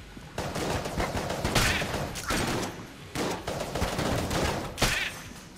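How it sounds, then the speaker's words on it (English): Enemies fire guns in the game Enter the Gungeon, a dense, fast crackle of repeated shots coming in loud waves with short pauses between bursts, and no talk over it. "All these people just shooting me for no reason."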